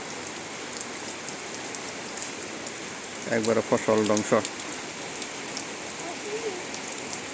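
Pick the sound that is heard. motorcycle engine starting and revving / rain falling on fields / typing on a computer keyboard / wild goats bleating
rain falling on fields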